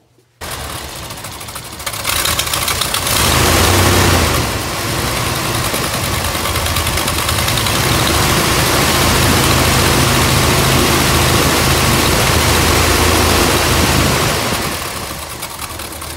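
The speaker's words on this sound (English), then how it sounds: "And now we're gonna go ahead and fire it up." A classic Ford truck engine cranks over and catches, then settles into a steady, loud, close idle that runs without a break, easing off slightly at the end.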